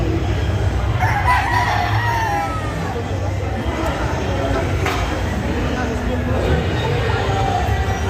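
Gamefowl roosters crow and cluck at a busy indoor expo. The crows are faint and partly buried under crowd babble and close talk.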